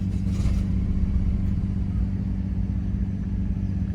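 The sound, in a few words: Nissan R34 Skyline GTR engine starting and idling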